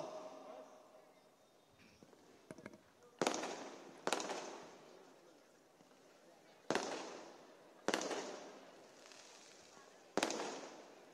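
A string of loud firecracker bursts at an outdoor political rally in Kalyan, five or six sharp bangs each trailing off into crackle, with a crowd murmuring in the background.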